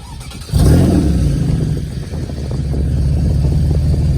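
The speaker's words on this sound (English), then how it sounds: "So let's turn the car on here and show you the last feature I love, the exhaust." A Porsche Boxster S engine cranks and catches after a short pause, then settles into a steady, deep idle exhaust rumble close by.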